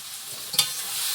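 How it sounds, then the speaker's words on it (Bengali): Spice paste sizzling in a pan before meat is added, a soft steady hiss with one brief stir clack midway, fairly quiet, no voices. "মশলাটা ভালো করে কষিয়ে নিয়েছি"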